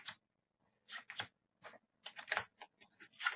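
Playing cards shuffled at the table during a game of the Shogun board game: several short, crisp bursts of papery clicking separated by brief pauses, close and fairly quiet, with no talking.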